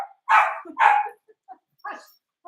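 Pomeranian dogs bark at home in a run of high yappy barks, two loud close ones, then a few softer yips and whimpers with short gaps.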